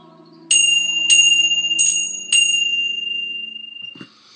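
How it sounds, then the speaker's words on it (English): Tibetan bells are struck four times during a morning prayer service, each clear, bright strike leaving a long sustained ring that overlaps the next, followed by a soft handling clink as the ringing fades. "So let us ring our Tibetan bells for peace"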